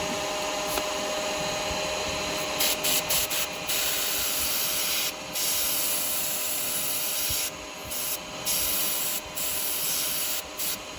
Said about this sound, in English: I'm just going to use the airbrush.